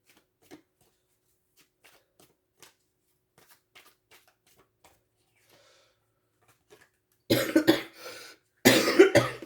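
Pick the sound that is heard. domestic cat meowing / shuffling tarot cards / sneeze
shuffling tarot cards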